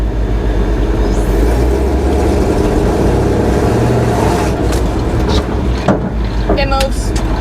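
Engine of an old abandoned Chevy dump truck running as the truck lurches into motion, a loud, steady low rumbling drone with a few clunks and rattles near the end.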